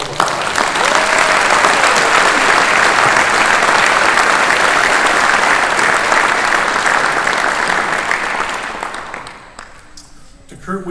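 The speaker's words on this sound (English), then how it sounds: "I think you guys deserve a round of applause" Sustained applause from an audience at a university athletic hall of fame induction ceremony, loud and steady for about eight seconds before tapering off, with a few final claps at the end.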